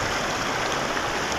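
Stream water rushing steadily beside a wild camp in Scotland, a close, continuous broadband wash of flowing water with no pauses and no voices.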